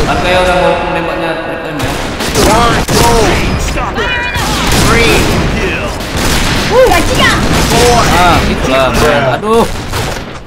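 Rapid bursts of gunfire in the Point Blank shooter, dense and loud from start to finish, with overlapping automatic volleys, clanking shell and weapon sounds and a voice speaking under the racket.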